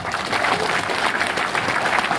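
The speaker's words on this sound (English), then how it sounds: "A round of applause for those guys." Audience applause at a comics panel event, a dense, steady wash of clapping from a crowd filling the whole short stretch, loud and close with no talk over it.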